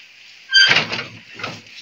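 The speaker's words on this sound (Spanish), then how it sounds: "vamos a abrir la ventana." A window is slid open at home in the early morning after a night of rain: a sudden scraping, rumbling slide with a clunk, then a second, softer slide.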